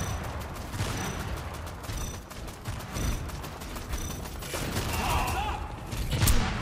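Rapid bursts of gunfire from the video game Tribes 3: Rivals crackle in close, repeated volleys, with a heavier thump near the end and occasional voice beneath the shots.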